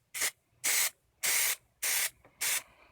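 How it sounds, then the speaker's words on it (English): Plasti Dip sprayed in light coats onto a DIY cosplay prop holster for a Dredd Lawgiver, five short hissing aerosol bursts of under half a second each, close and loud, with brief pauses between them. "I just kind of spray on, not a solid coat"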